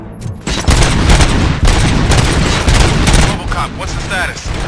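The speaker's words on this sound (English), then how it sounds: "Gunshots? What's going on?" Rapid gunfire bursts in the RoboCop: Rogue City video game, loud and close, with overlapping shots forming a sustained fusillade of cracks and booms.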